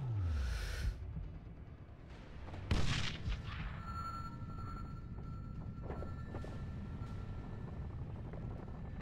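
Missile strike from a helicopter in the shooter game Sniper Ghost Warrior 2: a rushing whoosh, then a sharp blast and scattered rumbling booms over a steady mechanical drone, fairly faint overall.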